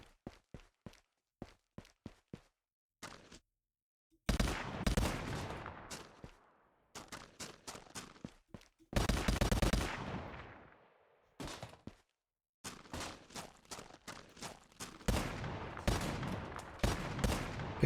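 In Call of Duty Zombies, gunfire cuts down zombies in sharp separate shots, then loud bursts of rapid fire broken by short silences, all close and with no talking.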